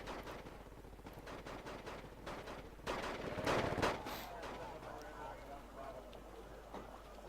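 Anti-tank weapons fire in the Wargame: Red Dragon multiplayer battle, with repeated sharp crackling shots and a denser, louder burst in the middle over steady background noise.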